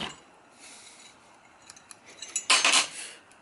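Metallic clinks and light scraping from an Apex metal detecting pick, slightly magnetic, being handled up close during a Minelab Equinox 800 unboxing, quiet at first and then a louder rattling burst near the end.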